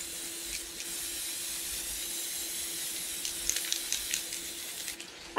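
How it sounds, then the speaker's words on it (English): Gloss espresso spray paint hisses from a can onto a wooden bear craft, a steady close hiss lasting several seconds before a soft knock at the end. "So I always start with a little spray paint before I move to the craft paint."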